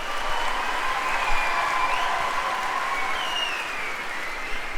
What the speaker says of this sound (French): Je crois qu'on peut les applaudir très très fort.